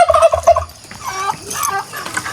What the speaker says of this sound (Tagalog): Oh, yung mga pabo.